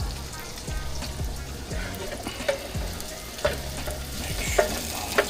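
Black drum fish frying in a pan and being stirred, with a steady broadband sizzle and occasional scraping clicks of the utensil, fairly close and moderately loud, with a voice present at times.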